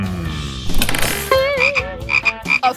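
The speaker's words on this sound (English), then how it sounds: "A frog?" A frog croaks loudly and close in a rapid series of warbling, rising calls, with clattering noise at the start and no talk.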